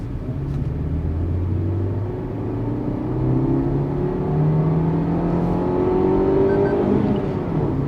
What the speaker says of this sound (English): sticking to the second gear, listen to the engine